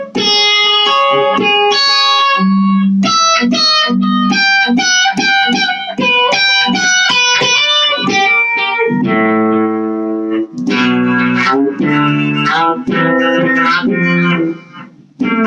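Electric guitar played through a Blackstar V2 amp with reverb or delay, loud melodic single-note lines and chords with ringing sustain and trailing echoes, heard alone.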